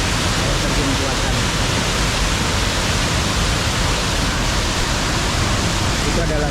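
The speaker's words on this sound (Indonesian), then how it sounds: "Nah, ada air terjun buatan." An artificial waterfall at a natural riverside campsite in Sentul pours continuously, a loud broadband rush of falling water that fills the whole clip, with a voice partly heard beneath it.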